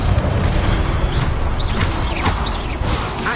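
A Confringo blasting spell explodes in the video game Hogwarts Legacy, giving a loud, dense roar of booming blasts with short whooshing, chirping magic effects layered on top.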